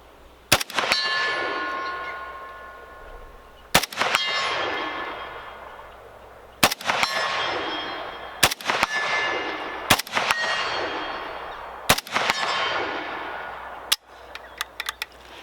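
A Romanian AKM rifle fires about eight spaced single shots, each a sharp crack followed by a ringing metallic clang from a steel target that decays over a second or two, outdoors and fairly close.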